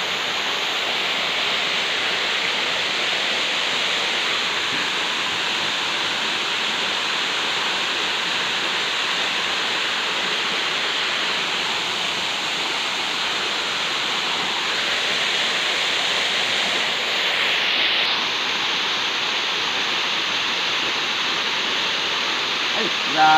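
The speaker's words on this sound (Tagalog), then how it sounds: "Lagbong sa tubig abe no." Busay Falls in Barangay Caridad, Jamindan, Capiz, pours as a steady, loud broadband roar of rushing water that holds constant throughout, with no pauses.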